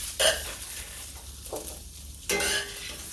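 Savory French toast frying in a pan, quiet sizzling broken by a few sharp bursts of spatula and pan sounds as it is handled and flipped.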